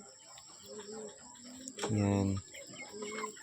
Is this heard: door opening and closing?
no